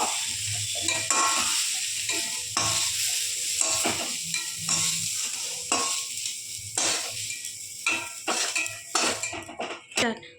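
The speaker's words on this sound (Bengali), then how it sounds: "দিয়ে এবার তেলের মধ্যে একটু ভেজে নেবো।" Loud, continuous sizzle of jackfruit pieces frying in hot oil, with frequent scraping and clinks of a spatula stirring the pan, close up.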